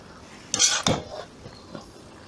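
A kazan pot of plov rice is shaken to loosen it, giving two quick metallic clattering jolts close by and then faint rustling in a quiet kitchen.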